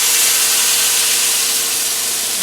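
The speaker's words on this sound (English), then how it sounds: "I'm going to put this roast in sort of fat side down. I'm not going to add any oil." A beef roast sears fat side down in a dry, smoking-hot pan with no oil, giving a loud, close, steady sizzling hiss that fades slightly toward the end.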